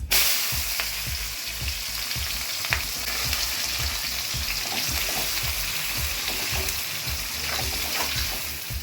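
Onions sizzle steadily in hot leftover potato-frying oil with bay leaf, cardamom and cinnamon, a dense continuous crackle with soft rhythmic low thumps, close and loud for a mutton curry.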